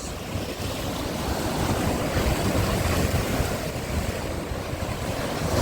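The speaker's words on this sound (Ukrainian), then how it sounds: "Оце таке витворяє море наше." Stormy sea waves crash continuously onto the shore in Odesa, a loud, dense roar of surf with heavy wind buffeting the microphone and no voices.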